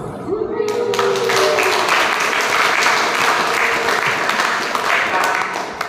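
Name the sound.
applause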